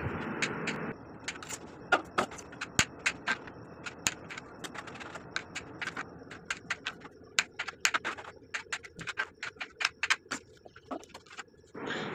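A knife chops mushrooms on a cutting board in a home kitchen, giving a run of sharp, irregular taps close by, some quick and clustered, others spaced apart.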